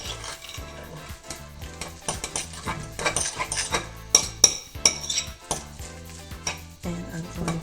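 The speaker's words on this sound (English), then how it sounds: "So now I'm going to make sure everything is stirred up." Homemade brush soap mixture stirred in a container, with close clinking, scraping and tapping of a utensil against the vessel in uneven strokes and no talking.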